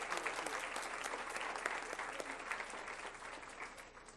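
An audience at a school district board meeting claps in steady, sustained applause that starts full and slowly tapers off toward the end.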